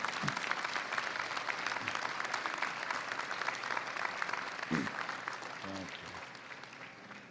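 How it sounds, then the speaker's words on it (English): Graduates at a spring convocation ceremony applaud their families and friends, a broad, steady wash of many hands clapping in a large hall, fairly distant, with a few brief voices calling out near the end. "give them a round of applause for the love and support that made this day possible"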